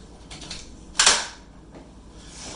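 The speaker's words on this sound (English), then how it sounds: "These are to add a second seat to the stroller, and these will click in right here in the front" Baby Jogger City Select Lux stroller seat adapters snapping into their front slots, giving one sharp, close plastic click that rings off quickly in a quiet room.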